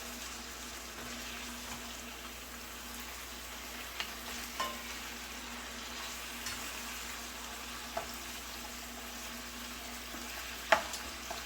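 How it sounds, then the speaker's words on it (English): Steady, quiet sizzle of ground meat frying in a pan, with a soft continuous crackle and a few faint clicks and clinks along the way. "it sounds like the meat's boiling in its own grease"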